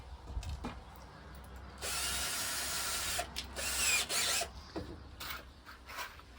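A power drill whirs in short bursts amid scraping and handling noises while a campervan kitchen is built, close by, with a longer run in the middle.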